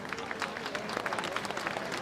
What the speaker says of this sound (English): Well, this applauding is for Our Lady.